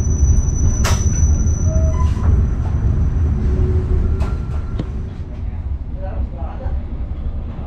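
An Indonesian KRL commuter train running between stations, with a steady loud rumble of wheels on track, intermittent metallic squeals and clicks, and people talking faintly in the carriage.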